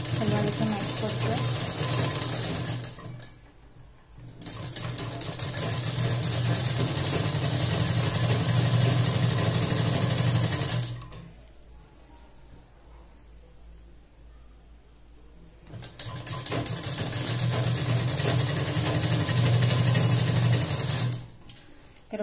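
A sewing machine runs a straight stitch along an Afghani salwar seam, a steady whirring hum in two long bursts with a pause between, fairly close and loud.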